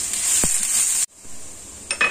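Ginger sizzles in a hot pan with garlic, a steady bright frying hiss broken by a couple of brief utensil clinks and scrapes, with a short pause in the sizzle midway.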